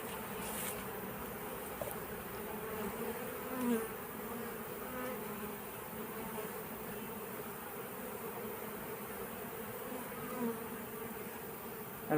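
Calm honeybees crawl over a hive frame full of compact brood, making a close, continuous buzzing hum that holds steady the whole time with no voices.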